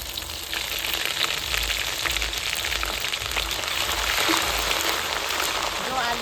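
Whole spices dropped into hot oil for a village-style egg biryani cooked over a wood-fired stove, giving a loud, steady, close sizzle and crackle that continues throughout.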